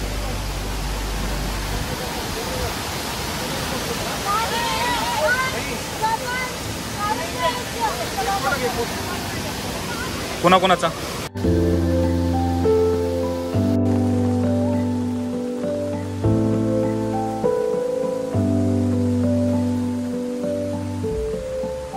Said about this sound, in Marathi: आम्ही इथे पोचलो आणि पाऊस धो धो पडायला लागला